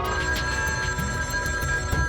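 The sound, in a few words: telephone ringing in a cartoon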